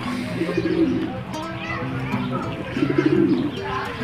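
White pigeons coo in soft repeated bursts in Saudi Arabia, near and clear, with faint chirps and background chatter mixed in.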